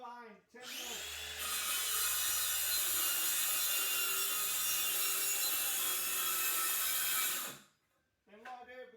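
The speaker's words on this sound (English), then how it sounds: "I just use my jigsaw for that corner" A jigsaw cuts through the corner of a kitchen worktop with a loud, steady rasping buzz lasting around six seconds, up close, preceded by a short lower whirr and followed by a brief voice.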